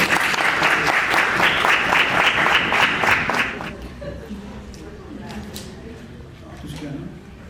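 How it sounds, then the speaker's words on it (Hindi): Wedding audience bursts into loud applause and clapping for about four seconds, then it fades into quieter crowd murmur, chuckles and scattered voices. "जोरदार तालियां बजाएंगे।"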